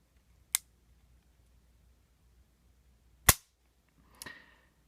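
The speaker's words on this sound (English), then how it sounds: "I'm going to show you guys the trigger real quick" Dry-fire trigger pulls on an unloaded polymer Jericho 941 pistol: three sharp isolated snaps spaced a few seconds apart, the last followed by a short metallic rattle, close and alone in quiet.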